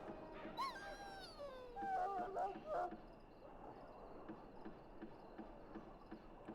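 A dog in Dragon Age: Origins gives a few whimpering, whining cries early on, fairly close and clear, before fading into a low ambient hum; a voice speaks lightly around it.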